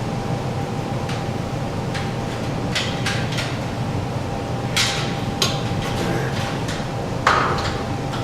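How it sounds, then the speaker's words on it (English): A standardized hammer is dropped about three inches, again and again, onto a sand sample during a direct shear soil lab test. It gives faint, irregularly spaced taps over a steady fan-like hum. "we're going to use our standardized hammer right here. We're going to drop it roughly 3 inches, 25 times."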